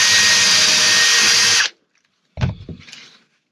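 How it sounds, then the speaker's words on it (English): A loud power drill with a hole cutter whirs steadily for over a second while punching a hole in canvas for a snap, then stops; after a pause come a few short mechanical clunks and scrapes up close. "Get the little cutter with the drill thing. It's very handy for punching holes"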